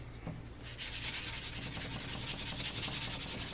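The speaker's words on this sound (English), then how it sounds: "Now we're just gonna sand this down so that's nice and smooth." Continuous sanding of dried repair putty with 220 grit sandpaper on a stock break repair, a steady close rasping rub that starts after a brief quiet moment and carries on evenly with no talking.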